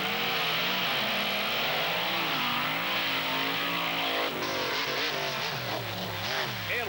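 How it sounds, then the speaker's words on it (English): Monster truck engine roars at full throttle during a drag race semifinal, loud and continuous with rising and falling revs as it launches, a second engine note layering in near the end. "the Monster Patrol gets a great launch at the very end and picks up the semifinal round win into the finals"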